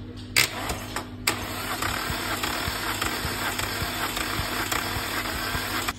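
Chery Tiggo 3 from 2019 with a 1.6 engine being cranked for a compression test on the first cylinder, giving a steady, rhythmic starter churn with regular pulses over a constant hum, close and moderately loud.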